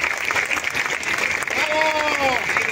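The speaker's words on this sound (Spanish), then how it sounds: "Un fuerte aplauso para las niñas y los niños, los adolescentes que conforman la Banda Filarmónica Municipal" An audience gives loud, sustained applause at a concert by a municipal youth philharmonic band in Oaxaca, with an announcer speaking over the clapping.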